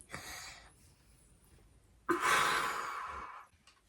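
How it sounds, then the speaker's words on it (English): A child takes a deep breath in through an asthma test mouthpiece: a short breathy exhale, a pause, then a long, loud rushing inhalation lasting over a second, close to the microphone. "Take a really deep breath in."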